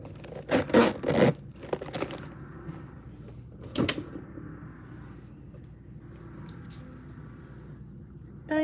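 A zipper on a bag's inside pocket is pulled in a few quick rasping strokes close by, followed by quieter rustling and handling of the bag.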